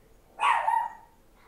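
A single short dog bark at a doorbell rings out close by, loud and sharp, followed by quiet.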